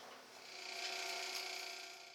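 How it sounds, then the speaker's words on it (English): A spalted maple blank spins on a lathe as a tool turns it round, giving a steady whirring, scraping tone that swells and fades briefly. "The blank is turned completely round."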